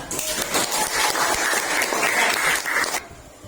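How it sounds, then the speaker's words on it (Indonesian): A classroom of sixth-grade madrasah pupils claps together in a brisk, dense burst that holds steady for about three seconds, then stops abruptly. "Ya, beri tepuk tangan."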